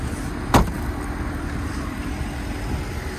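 The engine of a 2020 Ford Mustang EcoBoost with a 6-speed runs at a steady, low idle rumble, with one short sharp knock near the start and no talking.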